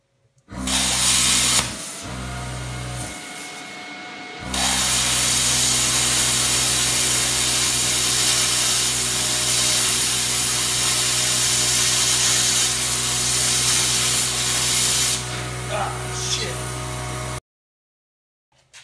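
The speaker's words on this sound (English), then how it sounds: "I'm gonna be using the plasma cutter." Plasma cutter slicing out a rust patch on an E30 car body, a loud harsh hissing roar that starts and stops briefly, then runs steadily for about thirteen seconds before cutting off.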